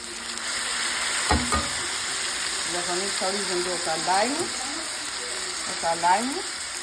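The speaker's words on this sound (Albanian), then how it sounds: "E skuqim pak. Çdo gjë do ta skuqim pak." Rice frying in a pan for stuffed peppers, a steady loud sizzle with scraping stirs of a utensil at intervals, while a voice talks over it.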